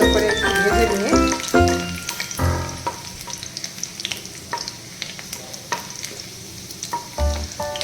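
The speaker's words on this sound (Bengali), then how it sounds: "এর মধ্যে আমি দিয়ে দিলাম রসুন কুচি। এবার এটাকে ভালো করে ভেজে নিয়ে" Chopped garlic fries in hot oil with a close, crackling sizzle, punctuated by clattering spoon-and-pan stirring strokes that fade into a softer steady spit.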